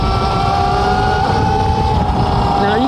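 An electric bike with a mid-drive motor and chain runs steadily and fairly loud, giving a continuous whine with shifting tonal pitch over a rough rolling rumble, no pauses throughout.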